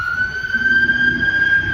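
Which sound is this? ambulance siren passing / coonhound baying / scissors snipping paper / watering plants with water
ambulance siren passing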